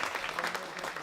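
Audience applause at the World Classic Powerlifting Championships 2021 for Sweden's new 74 kg men's open world champion: a short, dense burst of clapping from a hall crowd, steady and fairly loud throughout.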